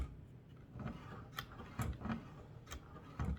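Hand-cranked automatic mandoline slicer cutting celery, heard as a quiet series of mechanical ticks and clicks with soft cutting thuds at irregular intervals, close by and alone.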